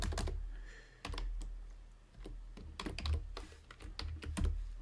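Quiet bursts of typing on a computer keyboard, irregular clusters of light key clicks with short pauses between them.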